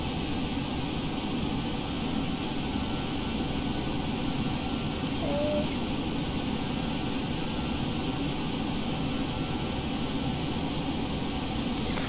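A simulated Boeing 737-800 in X-Plane 11 with its jet engines spooling up, giving a steady, loud, broadband roar that holds constant for the whole stretch with no talk over it.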